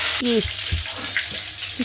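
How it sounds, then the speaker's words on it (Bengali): Cauliflower pieces fry in hot oil with a steady, close sizzle and brief stirring clatters, while a voice speaks briefly over it. "ভাজছে আর তুলছে, ভাজছে আর তুলছে। তারপর আমরা দেখছি ফুলকপি ভাজা।"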